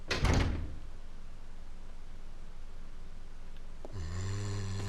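A creaking heavy door opens in the Resident Evil Zero video game, with a low thud at the start, a steady hiss, then a groaning creak near the end.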